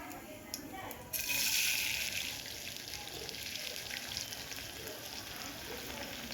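Chopped big onion drops into hot oil with cashews for vegetable pulao, setting off a sudden loud sizzle that eases into a steady, crackling fry up close.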